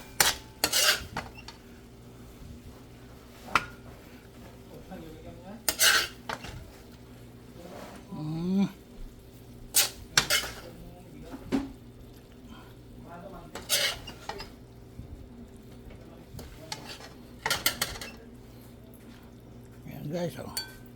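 A ladle stirs squid adobo in a pan, producing repeated metallic scrapes and clinks against the pan at irregular intervals over a low simmer, with a voice talking intermittently.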